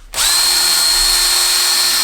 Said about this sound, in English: the drill bit back and forth